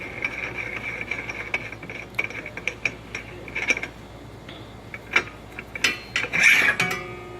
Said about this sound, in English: So first, by removing the lid, then you want to unscrew the nut.